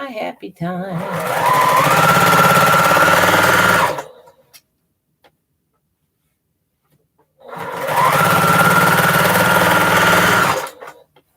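A sewing machine stitches seams in two sustained loud bursts of steady whirring, separated by a few seconds of silence.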